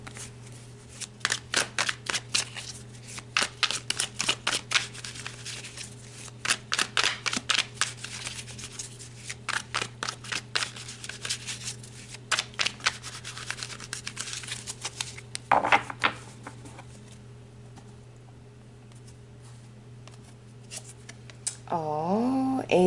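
Tarot cards being shuffled for a reading, a long run of rapid, close crisp riffling and flicking bursts over a steady low electrical hum, pausing briefly, then a few softer card slides and a short rising tone near the end.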